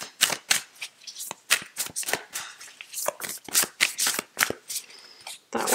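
Tarot cards from the Moonchild deck are shuffled close up in quick, crisp riffling bursts, each a sharp papery flutter repeating steadily without any talk.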